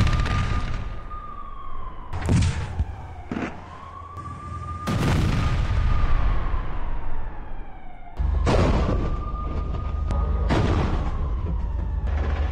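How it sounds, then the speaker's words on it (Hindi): Blasts hitting a Hamas tunnel in northern Gaza with gel bombs: several loud, broad booming bursts spaced through the clip, layered over a steady wailing siren that rises and falls in the background, with no voices. "उत्तरी गाजा की एक सुरंग पर जेल बम से हमला किया गया।"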